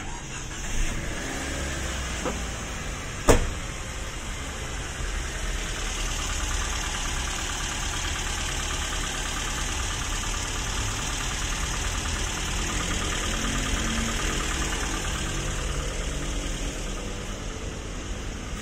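Engine of an old, worn-out car idling steadily at close range, a continuous low rumble with a faint knocking texture and a couple of brief sharp clicks early on.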